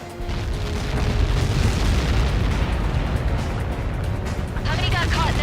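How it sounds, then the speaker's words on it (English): A missile impact in the Ace Combat 7 video game erupts as a loud, sustained, rumbling boom that fills the whole stretch, with a brief voice surfacing near the end. "How many got caught in that explosion?"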